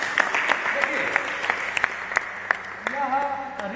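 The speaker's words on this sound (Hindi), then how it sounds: "एक बार जोरदार ताली।" An audience at a Hindu scripture exhibition claps together in a quick, even rhythm of sharp claps. A voice briefly joins near the end.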